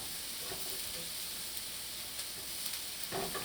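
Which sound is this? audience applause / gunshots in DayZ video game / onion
onion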